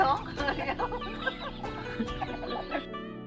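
Chickens clucking on a rural farm in northern Thailand, a busy cluster of close, overlapping clucks and squawks with a person talking over them.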